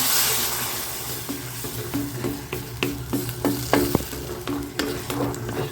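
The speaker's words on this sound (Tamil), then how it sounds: "தக்காளியை போட்டுடலாம் தக்காளி நல்லா வதங்கட்டும்" Tomatoes sauté in hot oil for a paneer gravy, with a soft steady sizzle and repeated sharp scraping clicks as a spoon stirs the pan, close and fairly quiet.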